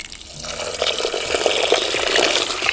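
Water poured onto rice while preparing strawberry-chocolate mochi, a steady close splashing and trickling stream that builds slightly and runs on without pause.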